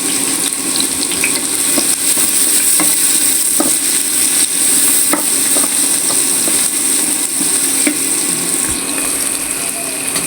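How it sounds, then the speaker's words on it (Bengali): Lentil dumplings (bori) fry in hot oil with a loud, constant sizzle, broken by scattered pops and clicks. No voices are heard. "এখন বড়িটা আমি ভেজে নিচ্ছি"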